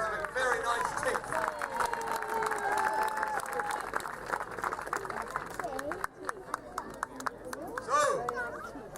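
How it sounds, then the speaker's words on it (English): An outdoor crowd at a medieval fair applauds a knight at a castle event, scattered clapping under an announcer's voice and crowd noise, with sharper claps toward the end. "a round of applause for the Blue Knight"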